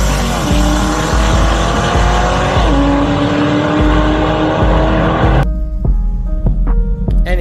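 Chevrolet Corvette E-Ray at a drag strip, a loud, steady engine roar with tire spin running for about five seconds, then cutting back to a quieter idle broken by short blips of revving.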